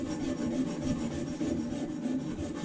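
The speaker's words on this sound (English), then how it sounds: "you just have to do a little bit more sanding to get all of that excess lead off of that copper" A Dremel 4000 rotary tool sands leftover lead-free solder off a copper pipe, giving a steady, close rasping grind with a faint motor hum underneath.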